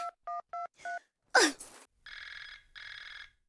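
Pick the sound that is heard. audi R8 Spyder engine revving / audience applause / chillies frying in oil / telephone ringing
telephone ringing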